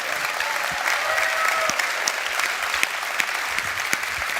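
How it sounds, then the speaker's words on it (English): An audience at a MediaTek semiconductor keynote in Taiwan breaks into steady, dense applause, many hands clapping at once in a bright, even patter that fills the hall. "Hey, people, give him an applause."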